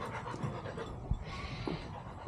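A dog named Dutchess pants steadily during an in-home training session, a soft rhythmic breathy huffing close to the microphone with a couple of brief louder bumps.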